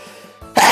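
A single close sneeze bursts out loudly at the end, preceded by a short quiet intake and low murmur.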